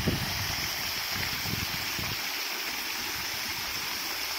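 Water pouring into a fish farm earthen pond, a continuous close rushing splash with a steady hiss and no break throughout.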